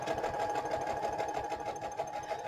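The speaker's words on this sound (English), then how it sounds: "while I have the sewing machine out, if I want to add a stitch down the side of it" A sewing machine stitches down the side of a farmhouse-style junk journal page, a close, rapid mechanical chatter running steadily without pause.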